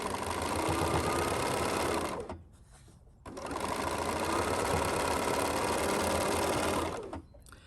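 Sewing machine running a quarter-inch quilt seam, a steady loud mechanical whir in two long bursts separated by a brief pause, no talking.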